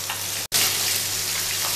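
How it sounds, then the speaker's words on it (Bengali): Rohu fish pieces fry steadily in hot oil, giving a loud, continuous sizzle that breaks off for a moment near the start and then resumes, with no voices. "লালচে করে আমরা ভেজে নিয়ে এটা তুলে নেব।"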